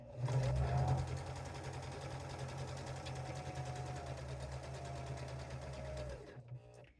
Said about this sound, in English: put your presser foot back down and just sew to the end